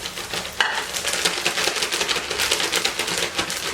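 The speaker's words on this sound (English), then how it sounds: "Start putting it in our pan to cook." Chicken pieces sizzle and crackle in a hot pan for chicken Marsala, a dense close frying hiss with small bursts as pieces go in, and nobody talks.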